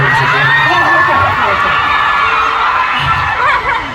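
Large crowd at a K-pop fan meeting in Manila cheering and screaming loudly, with excited high-pitched shouts and whoops sustained throughout.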